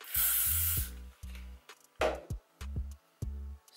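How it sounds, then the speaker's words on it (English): Hairspray aerosol misted onto hair roots, one long hiss followed by several shorter bursts, close and clear, interleaved with small handling clicks and rustles. "So I only hairspray the roots."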